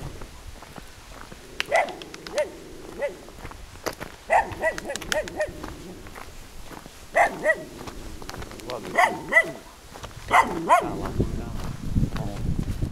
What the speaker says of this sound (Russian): О, собака местная. Сейчас спросит, куда идете.